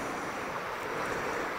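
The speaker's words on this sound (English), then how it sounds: "You can probably hear the river in the background." A river at Smardale Gill rushes steadily in the background, a soft, continuous wash of flowing water with no voices.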